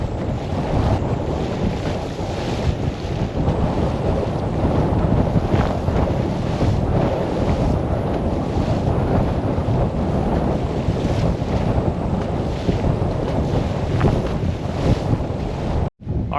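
Strong wind and waves on Lake Fork, heard from a kayak out on the water: constant loud roaring wind buffeting the microphone over splashing chop, unbroken for the whole stretch until an abrupt cut at the end.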